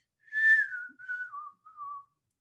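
A person whistles an imitation of a golden-crowned sparrow call, three descending notes, clear and alone in quiet surroundings.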